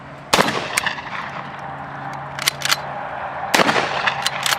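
WWII paratrooper weapon fired at an outdoor demonstration, with a few sharp, loud bursts of gunfire spaced across the moment and a lighter shot or two between them.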